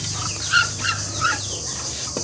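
A hen clucks several times in short bursts close by in a backyard poultry setting with ducks and chicks, over low background noise.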